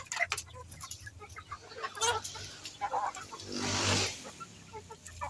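Pet chickens cluck and chatter in short, overlapping bursts while being fed, fairly faint and close, with a brief rustling scratch midway.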